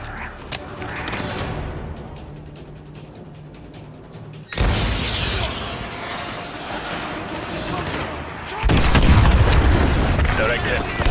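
An AGM missile exploding in Call of Duty Modern Warfare 2 Remastered: a sudden loud boom after a quieter stretch, its rumble lingering, then a second heavier blast, with voices over the battle noise.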